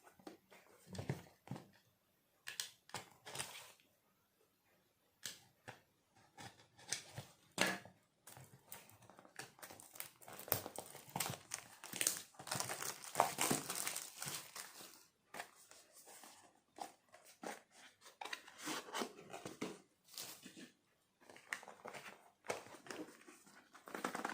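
Packaging for a Hobbywing QuicRun Fusion brushless RC motor rustles and crinkles near the microphone in irregular bursts of handling noise, with short pauses and no talking.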